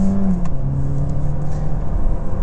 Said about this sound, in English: So now I hit the paddle on the left, and we're downshifting.